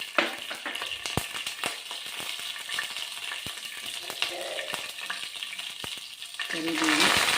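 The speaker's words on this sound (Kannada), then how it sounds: "ನಂತರ ಸಾಸಿವೆ ಹಾಕ್ತಾಯಿದ್ದೀನಿ." Mustard seeds crackle in hot oil in a pan, sharp irregular pops and snaps over a constant close sizzle that swells louder toward the end.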